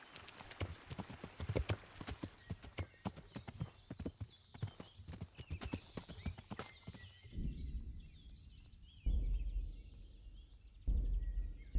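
Horse hooves clip-clopping steadily in the medieval game Kingdom Come: Deliverance, a quick run of close, crisp beats over the first seven seconds, then heavier thuds and a snort or whinny as the animal slows.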